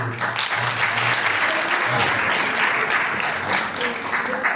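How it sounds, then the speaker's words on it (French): An audience of high school students applauds at a poetry event, a continuous wash of clapping that holds steady from start to end with faint talk beneath. "Encore une fois, des applaudissements"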